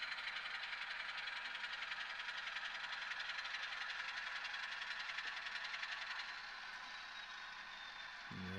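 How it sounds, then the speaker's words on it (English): A train rumbles and rattles at low volume while pulling a covered hopper car forward onto sidings, a steady mechanical clatter that eases off near the end with a brief knock. "we're going to grab this covered hopper, pull it forward a little bit, get it on the sidings here"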